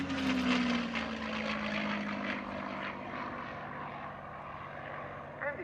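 Mustang fighter aircraft performing at the RAF Cosford 2023 air display, its propeller engine a loud, continuous droning roar with a slowly falling pitch as it passes, easing off slightly toward the end.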